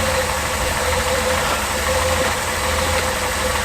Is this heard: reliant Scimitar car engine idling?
yes